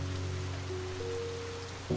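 Steady rain falling under soft piano, a constant close hiss of drops with sustained low piano notes running through it.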